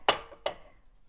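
Two thrifted Mountain Wood Collection stoneware plates clink together, two distinct bright ceramic knocks close by with short ringing decays in an otherwise quiet kitchen.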